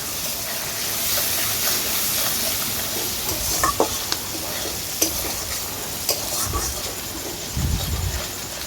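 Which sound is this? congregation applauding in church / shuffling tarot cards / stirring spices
stirring spices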